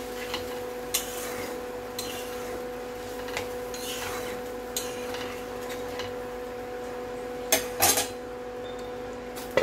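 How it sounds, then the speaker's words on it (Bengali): A metal lid clanks onto a cooking pot of simmering pumpkin curry in a home kitchen, a few sharp clinks standing out near the end over a steady background hum. "একটু ঢাকা দিয়ে দিলাম।"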